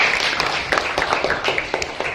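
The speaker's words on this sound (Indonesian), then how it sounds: "Tepuk tangan." Schoolchildren in a classroom applaud with quick, overlapping claps that form a steady crackling patter, fairly close, with some faint voices mixed in.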